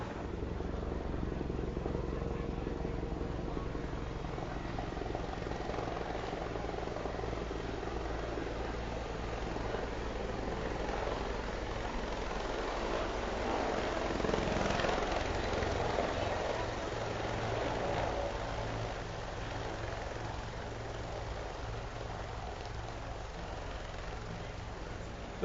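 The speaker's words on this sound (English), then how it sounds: "The Bell 412 helicopter has the ability to take up to 2 patients and 2 medical crew." Bell 412 helicopter rotors run steadily for the whole stretch, a continuous low whirring thrum with engine whine, loud and unbroken, no talking.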